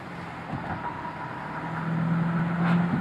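A 2007 Shelby Mustang GT's exhaust drones steadily from inside the moving car, rising slightly in pitch and loudness toward the end.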